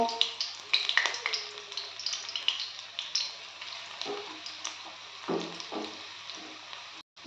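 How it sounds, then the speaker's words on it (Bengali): Drumstick flower fritter batter dropped in small balls into hot oil over a medium-high gas flame, frying with a steady crackling sizzle and occasional louder bursts, close and alone without talk. "আমি সবগুলো তেলের মধ্যে ছোট ছোট গোল গোল করে ছেড়ে দেবো"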